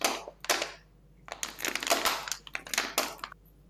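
Crunchy shoulder joints cracking and grinding in short dry bursts, several quick crackly pops in irregular clusters, close and fairly faint with nothing else audible.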